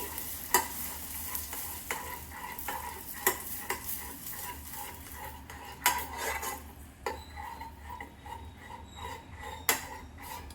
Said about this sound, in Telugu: ఇప్పుడు మిక్స్ చేస్తున్నానండి.